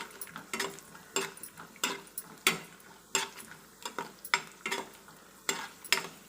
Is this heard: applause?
no